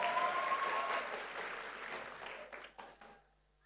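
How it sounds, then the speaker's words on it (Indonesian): Congregation at a church service applauds together, a dense wash of clapping that holds steady and then thins out and stops near the end, leaving near silence. "beri tepuk tangan buat Tuhan Yesus"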